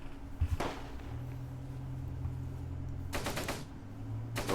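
Troops in the WWII strategy game Close Combat: Gateway to Caen open fire, with bursts of rapid machine-gun and rifle shots over a steady low battle rumble, clustered near the end in quick rattling volleys.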